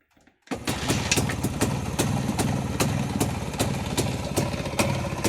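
A Jawa motorcycle fitted with a 262 ignition switch unit starts after a brief moment of quiet, then runs steadily and loudly close by with a fast, even firing rhythm.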